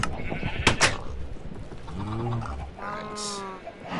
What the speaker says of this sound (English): Lots of little baby sheep.